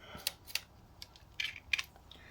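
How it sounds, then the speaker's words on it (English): A Nikkormat FTN camera's vertically travelling shutter fires on a slow setting, giving a series of crisp, light mechanical clicks and ticks spaced irregularly, close and quiet against a near-silent background. "So if I just fire the shutter for you on that slow setting"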